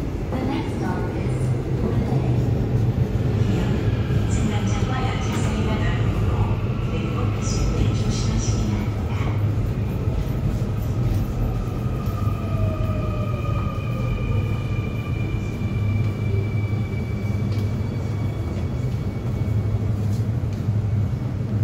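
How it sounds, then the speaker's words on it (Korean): A Seoul Line 2 subway train bound for Seongsu rumbles steadily into Sindorim Station, a continuous loud roar with squealing wheel tones and a faint announcement voice. "성수행 열차가 들어오고 있습니다"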